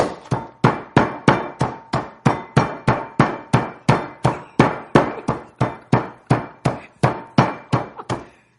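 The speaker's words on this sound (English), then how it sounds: "jar or anything that you can use to crush your pecans" Pecans crushed with a glass jar for blonde brownies: a steady run of about twenty sharp, evenly spaced thumping strikes, close and loud, with no talk.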